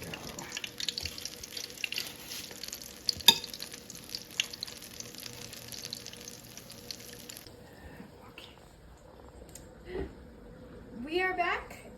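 Apple fritters frying in hot oil, a steady bubbling sizzle with scattered pops and clinks that fades out partway, while someone speaks over it.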